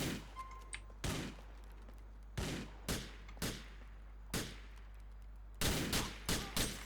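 Gunfire in the video game GTA IV during a firefight where an enemy has picked up a pump shotgun: about eight sharp, loud shots in an uneven rhythm, several spaced a second apart, with a tight cluster near the end.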